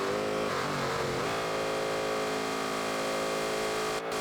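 A Bugatti Veyron in the driving game BeamNG.drive accelerates, its engine a steady, dense buzzing drone with climbing tones early on, heard alone and cutting off abruptly at the end.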